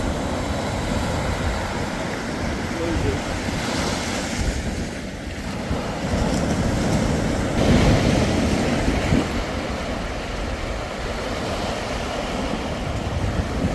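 Sea waves wash steadily onto a beach, a broad continuous roar and surge with wind buffeting the microphone, loud and close throughout.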